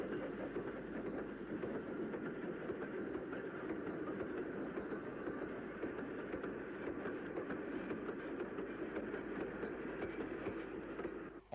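A diesel locomotive hauls a transfer freight train from Westerly to Bristol across a footpath near a railway triangle, its engine drone and wagon rumble steady and fairly close for the whole stretch, with no voices.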